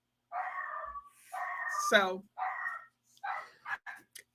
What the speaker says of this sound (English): you can hear the puppy in the background